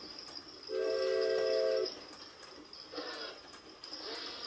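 A train in a mobile video game sounds a loud horn blast lasting about a second over a low rumbling hum, followed by faint periodic chimes.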